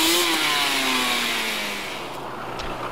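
A go-kart engine with a CVT transmission revs hard, holding a strained, near-steady pitch that drifts slowly downward as the kart pulls away, loud at first and easing slightly over a few seconds.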